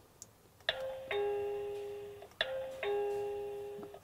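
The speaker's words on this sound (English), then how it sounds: "I have successfully paired the wireless chime receiver with the wireless doorbell" A Tuya wireless doorbell chime receiver rings twice, each ring a clear electronic two-tone ding-dong that decays slowly, loud and alone in a quiet room.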